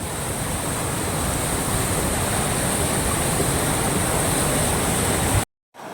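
Waterfall on the Mount Pinatubo hiking trail, a loud, dense, continuous roar of falling water that cuts off abruptly near the end.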